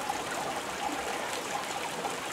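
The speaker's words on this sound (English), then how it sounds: "It's pouring with rain." Heavy rain pours down on a dark Christmas Eve evening, a steady, even wash of falling water with a faint trickling quality and no voices.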